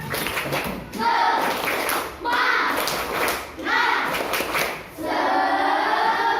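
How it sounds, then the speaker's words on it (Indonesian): Children in a classroom perform a rhythmic spirit clap, bursts of loud, close group clapping in patterned groups separated by brief pauses, mixed with children's voices chanting along. "Tepuk semangat."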